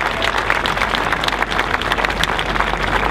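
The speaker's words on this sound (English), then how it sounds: "how about a nice hand for all of our speakers today?" An outdoor crowd at a homeownership rally in Richmond, Virginia, claps steadily for the speakers, a dense, even patter of many hands lasting throughout.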